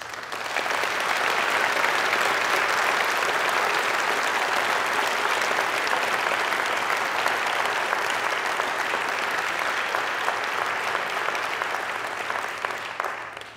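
Sustained applause from a large audience at the UCU Congress 2024 in Bournemouth, a dense steady wash of clapping that holds strong for over thirteen seconds before tapering slightly at the end.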